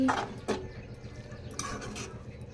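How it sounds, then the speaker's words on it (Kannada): Okra masala fry being mixed with fresh coriander in a pan, a few distinct metallic clinks and scrapes of a spoon against the pan over a light sizzle, close and fairly quiet, no speech. "ಇವಾಗ ಮಿಕ್ಸ್ ಮಾಡಿದರೆ ಫೈನಲಿ ಬೆಂಡೆಕಾಯಿ ಫ್ರೈ ರೆಡಿ"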